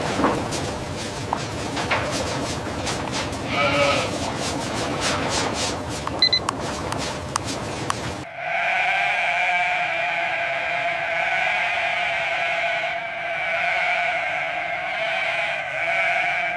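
Goats bleating at a large mountain goat farm, repeated wavering cries over a busy background, with clattering and shifting noise in the first half, then a steadier, clearer stretch of calls.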